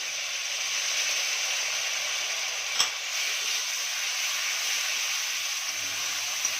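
Onion and ginger paste fries in oil with a soft, steady hiss and sizzle, faint and even throughout, with a single brief click near the middle.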